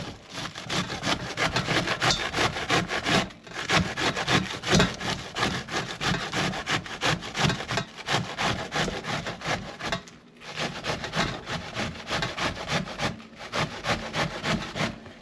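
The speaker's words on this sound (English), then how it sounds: "We're using the shredded side of the grater, as we call it in the Jamaican term." Steady rhythmic rasping of food pushed over the shredding side of a box grater for Jamaican cooking, close and continuous, with brief pauses between runs of strokes and no speech.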